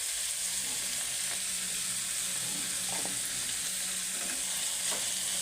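Cauliflower with turmeric fries in a pan with a steady, loud sizzle, while a spoon stirs it with a few soft scrapes.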